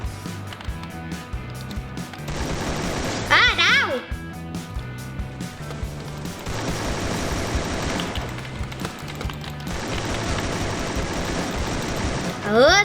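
Video game gunfire from an AK47 Blue Flame Draco rifle, scattered bursts mixed with game effects and music, while players talk excitedly throughout.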